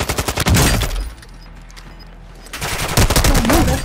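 Bursts of automatic gunfire in Call of Duty: Modern Warfare II, loud rapid volleys at the start and again near the end, with a quieter stretch between.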